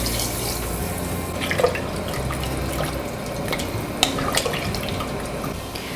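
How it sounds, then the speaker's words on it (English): Water poured into a pot of fish stock with whole peeled tomatoes, a steady, close splashing stream of liquid filling the pot for about six seconds with a few drips and clinks, no talk. "Now we're gonna top it off with 4 cups of water."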